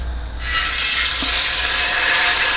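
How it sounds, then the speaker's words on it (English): Steak hitting a preheated pan and bursting into a loud, steady sizzle that fills the space right away and holds without a break. "And again, you have to hear that sizzle straight away."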